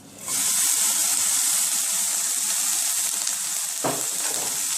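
Vegetables hit a heated pot with a sudden loud sizzle that settles into a steady, close frying hiss, broken near the end by a brief stirring scrape.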